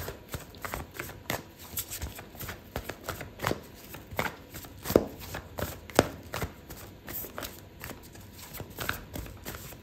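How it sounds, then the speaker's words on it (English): Oracle cards being shuffled by hand, a run of soft rapid riffles and taps at close range, fairly quiet, with no talking. "I'm gonna pull out an oracle card for you"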